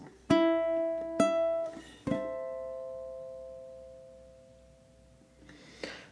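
Ukulele playing a classical piece, a few plucked notes and chords moving up and down the neck, each ringing out and decaying slowly, quiet and close with no talking.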